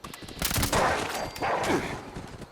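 Thompson submachine gun fire in the Fallout 76 video game, a dense rattling burst that swells twice over a couple of seconds, loud and busy with overlapping shots and no talking.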